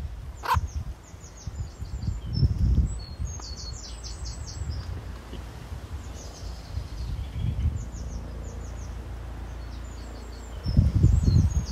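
A pet bird nestled in a tea cozy gives short high chirps and tweets in scattered bursts, close by, with soft rustling and low handling thumps between them.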